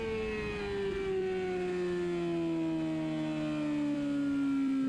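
Race car engine on a reverse-direction Little Tally track layout, held at full throttle with a sustained high whine that slowly drops in pitch, loud and steady throughout with no talk over it.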